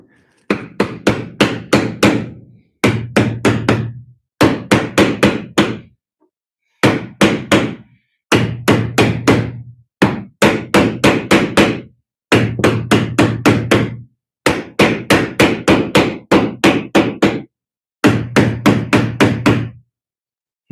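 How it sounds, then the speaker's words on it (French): A hammer strikes repeatedly while seat mountings are being fitted, landing in loud, close bursts of quick blows. The bursts are separated by short pauses and continue steadily for about twenty seconds. "Donc le marteau de tout à l'heure, je l'ai posé là."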